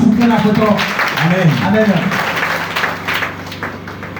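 Church congregation clapping together during a French-language service, a steady wash of applause that stays loud, then gradually thins out, with a voice speaking over it at the start.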